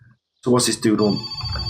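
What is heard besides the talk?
telephone ringing in the video game My Summer Car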